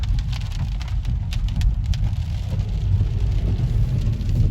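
Steady rain falls outdoors beside a road, a continuous rushing hiss with a heavy low rumble that may include passing traffic. No one speaks.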